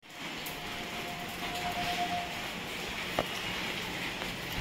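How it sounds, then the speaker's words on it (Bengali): Heavy downpour outdoors, a steady broadband hiss of pouring rain throughout with a faint tone in the middle and a brief knock near the end; no talking. "প্রচণ্ড বৃষ্টি মুসলধারে"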